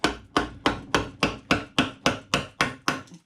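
A big wood-carving gouge is struck with a mallet to break away wood while roughing out the head of a large carved eagle. About ten sharp, evenly spaced knocks ring out close and loud, with no voices.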